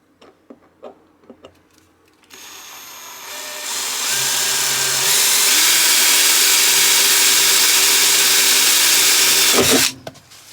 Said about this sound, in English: I'm going to drill there so it gives me a flat surface as opposed to an angle